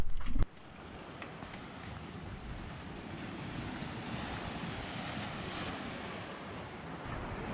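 Steady broadband surf washes over a secluded beach at Playa Zoni on Culebra in the Spanish Virgin Islands, with wind buffeting the microphone; a brief loud gust opens, then continuous rushing waves alone.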